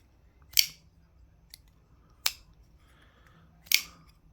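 A Medford USA-made folding knife is handled, opened and closed, giving three sharp metallic clicks spaced a second or more apart, close and crisp against a quiet background.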